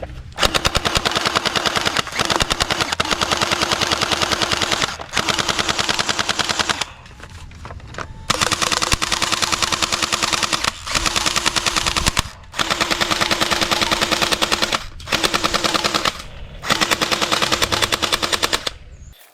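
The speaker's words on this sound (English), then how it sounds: "AK47 submachine gun." A toy AK47 submachine gun fires long, loud, rapid mechanical bursts, broken by a few brief pauses, close by and with no voices.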